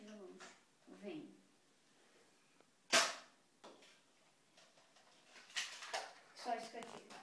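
A small Nerf toy blaster fires once with a sharp, loud snap, set amid close, quiet talk and light handling noises.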